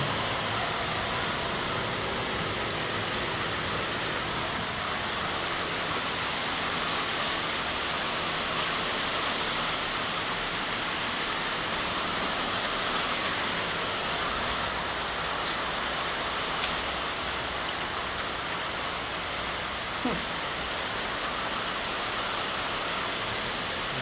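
Typhoon floodwater rushes in a constant broadband hiss, steady and fairly loud throughout, with no talking.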